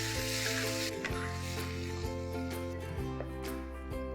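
Ground tomatoes go into a frying chicken curry masala for a dhaba-style chicken curry, giving a loud, steady sizzle that fills the whole stretch, with a sustained tonal hum running underneath.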